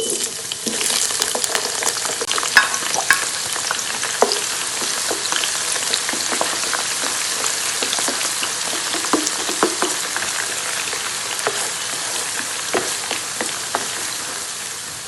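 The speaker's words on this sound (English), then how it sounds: "we're going to fry our tomatoes" Crushed tomatoes and onions fry in a pot for a vegetable stew, a dense, continuous crackling sizzle heard up close, with frequent small pops and stirring scrapes throughout and no voices.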